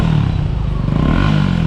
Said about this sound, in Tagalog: May tunog pala itong motor na to.